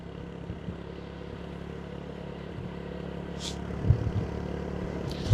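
A motorcycle rides through the streets of Goma, giving a steady low engine drone with faint rattles and a brief clatter near the end.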